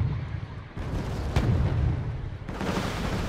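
Mortar rounds from a small VPM mortar unit boom in the Wargame Red Dragon strategy game, two heavy rumbling blasts about two seconds apart over a continuous low battlefield rumble.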